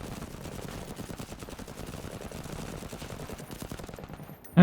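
Gunfire in the Menace video game, a rapid, continuous machine-gun rattle held at an even level, ending in a sharp loud hit.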